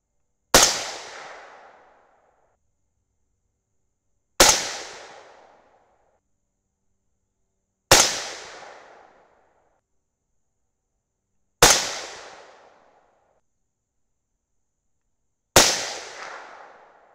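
Five suppressed 6.5 Grendel rifle shots, firing 140-grain Hornady Match BTHP loads, crack out loud and sharp, each spaced about four seconds apart with a short decaying tail and silence between.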